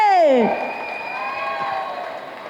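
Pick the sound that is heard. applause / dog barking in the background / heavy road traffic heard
applause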